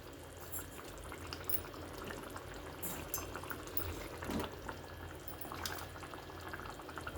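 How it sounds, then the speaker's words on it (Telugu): A pot of tamarind masala curry with raw banana and eggs simmers on the stove, making faint, soft bubbling with occasional small pops, quiet and steady with no voices. "సిమ్లో ఆయిల్ తేరే వరకు మరగనిద్దాం."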